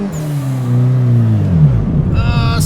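A simulated rally car engine in a racing video game played on a drift and rally wheel, revving high then winding down in pitch as the car slides through bush, with a voice starting at the end.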